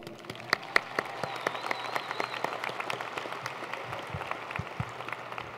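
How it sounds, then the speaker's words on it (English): Applause at a 2019 community college commencement ceremony: steady crowd clapping with sharp individual claps standing out, moderately loud and continuous throughout. "Round of applause,"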